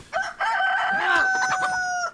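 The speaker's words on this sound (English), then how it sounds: "There we go, there's the cockerel." A single rooster crow in the video game DayZ rings out clearly, a drawn-out cock-a-doodle-doo lasting about two seconds, near and loud.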